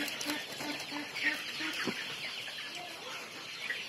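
Forty-nine-day-old broiler chickens cluck in a poultry shed, a soft, steady scatter of short repeated clucks from several birds, faint and fairly close, over a low background hum.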